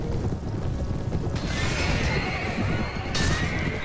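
A horse whinnies loudly and briefly in a battle in the video game Mount & Blade: Warband, A Clash of Kings mod, amid a busy, noisy background of clattering and rushing sound, with a second sharp burst near the end.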